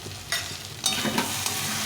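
Cabbage fries in a pan as roasted garam masala and cumin powder are stirred in, with a close sizzle and a couple of brisk scraping stirs; no talking.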